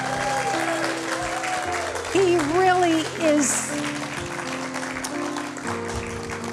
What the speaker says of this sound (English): give my accompanist, John, a huge round of applause